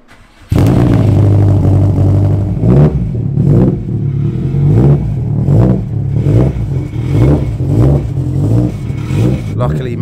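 A well-tuned Subaru engine revs hard after a sudden start, with loud repeated throttle blips and exhaust bursts over a rough idle, close by and dominating throughout.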